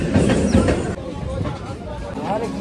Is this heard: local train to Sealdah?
yes